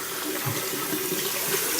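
Water runs from a tap in a steady, close hiss for a shave with warm mountain water, filling the short stretch without a break or any voice.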